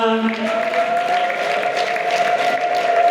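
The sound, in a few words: crowd clapping and ululating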